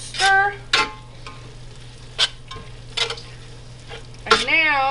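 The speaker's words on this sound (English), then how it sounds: "Give it a good stir." Dehydrated corn mixed with mayonnaise is stirred for street corn tostadas, with several distinct scraping strokes of a utensil against the bowl over a low steady hum, separated by brief pauses; no talking.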